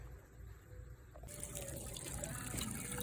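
Water drains from a spigot that had been clogged with mud dauber nests, a steady trickling flow that starts abruptly about a second in and continues at moderate level to the end, with no voices.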